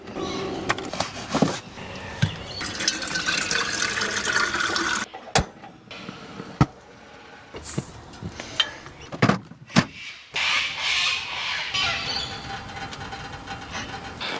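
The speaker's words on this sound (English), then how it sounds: "you just put the pump in a bucket of water. And then that just feeds the water up." A battery-powered portable shower pump sits in a bucket of water and feeds a spray in long hissing bursts. The spray is broken by sharp knocks and brief pauses, close by, with no talking.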